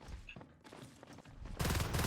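Video-game gunfire aimed at babblers. Scattered shots and small noises lead into a loud, dense volley of rapid firing that fills the final half second.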